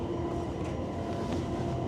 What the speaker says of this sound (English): Wow, look, the train is going, Ariane.